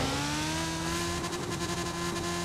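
A four-wheel-drive LEGO Speed Champions car in Forza Horizon 4 drives with a steady, loud engine drone that climbs gradually in pitch as it accelerates, with rapid gear-shift pulses and tire noise near the end.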